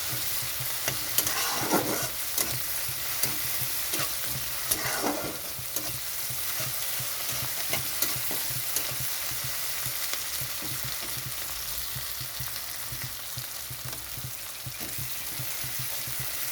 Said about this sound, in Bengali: মশলাটা ভালো করে কষাতে হবে।